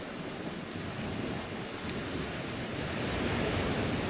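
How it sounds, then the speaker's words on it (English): Waves roll steadily onto the shore at Cei Bach in Ceredigion, a continuous broadband wash with light wind, swelling slightly louder toward the end. "Listen to the waves rolling in."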